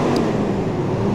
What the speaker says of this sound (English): Sorry about the noise. I'm literally in their parking lot.